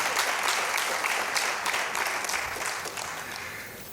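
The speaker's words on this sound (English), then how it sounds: "another round of applause for them." Audience applause at an international conference speech in Lagos, steady dense clapping that fills the room and slowly tapers off.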